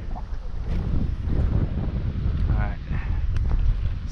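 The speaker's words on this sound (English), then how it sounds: "It's really cold and windy" Strong, cold wind roars steadily across an open fishing spot, buffeting the microphone in a constant low rumble with faint splashes and voices underneath.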